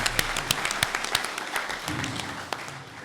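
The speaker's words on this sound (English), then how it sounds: "Let's give him a round of applause" Audience applause at a Gambia High School Class of 1971 symposium, a modest crowd clapping with sharp distinct claps standing out over a steady patter for about three seconds, no talking.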